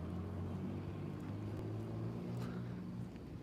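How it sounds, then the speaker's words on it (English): A loud truck turns somewhere in the distance, a steady low engine rumble and drone that stays fairly constant throughout with no talk. "There's just a loud truck turning back there."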